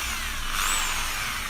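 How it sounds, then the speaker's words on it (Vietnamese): A corded electric hammer drill for concrete runs in combined hammer-and-drill mode, its worn commutator throwing heavy sparks, giving a steady, loud, close whirring roar with no voices over it. "Mình chuyển chế độ khoan búa này, vừa khoan vừa đấm này."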